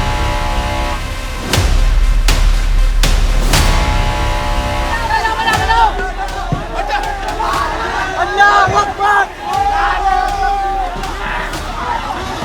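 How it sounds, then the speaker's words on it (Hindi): A crowd chants Allahu Akbar slogans during a bulldozer demolition clash at Turkman Gate. Noisy, overlapping voices rise into a continuous hubbub after an early stretch of heavy rumbling and thumps. "अल्लाहू अकबर के नारे लगाती हुई भीड़ ने पुलिस टीम पर पत्थरों से हमला किया"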